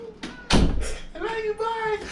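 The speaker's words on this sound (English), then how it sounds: "close the door behind you" An indoor door swings shut with one solid thud partway through, amid household sounds, with people talking before and after it.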